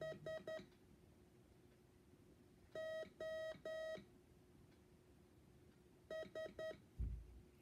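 Three short bursts of steady electronic Morse code beeps spelling S O S, each a quick group of dits and dahs, separated by pauses of quiet background hiss.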